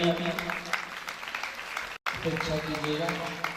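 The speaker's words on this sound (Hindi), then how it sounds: "जोरदार ताली की" Brief burst of audience clapping at a Shrimad Bhagwat Katha religious discourse, steady and moderately loud, with a momentary dropout midway and a voice over it.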